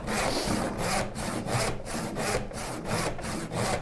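Hand saw cutting wood pieces for a Shaker Enfield cabinet, with about a dozen steady back-and-forth rasping strokes in a regular rhythm, close and loud, with no talking.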